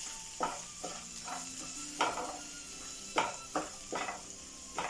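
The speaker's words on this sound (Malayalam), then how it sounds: "ഇതിൻ്റെ ചൂട് പോണവരെ ഒന്നാണ്ട് ഇളക്കി കൊടുക്കണം" Hot roasted chili powder is stirred in a pan as it cools, before being ground for chutney, making soft, fairly quiet scraping strokes that repeat roughly every second over a light background hiss.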